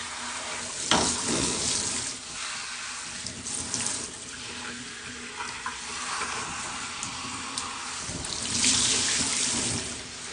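Water runs from a tap while wavy hair is rinsed, a continuous splashing rush that shifts as the flow hits hair and hands, swelling louder toward the end with no voices.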